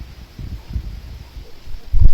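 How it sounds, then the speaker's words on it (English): Strong gusts of wind buffet a SOLAREYE trail camera's microphone outdoors among grasses, buckwheat and a swaying tree, low rumbling bursts that swell and fade, loudest near the end. "Another video of it just being windy as heck"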